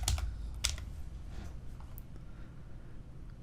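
Computer keyboard typing, a short burst of faint clicks near the start that tapers into a quiet room background with no talk, likely entering a plugin name in WordPress.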